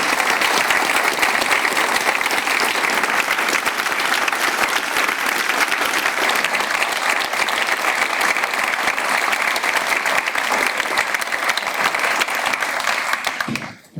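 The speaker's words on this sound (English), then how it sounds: "please join me in a round of applause" Sustained, dense applause from a large audience at the close of a lecture on international law and security, loud and steady for about thirteen seconds before cutting off abruptly.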